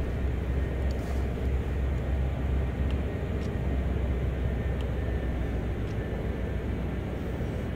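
GP40-2 diesel locomotive hauling coal in Train Sim World, its engine giving a steady, loud, low rumbling drone that holds evenly throughout with no distinct break or surge.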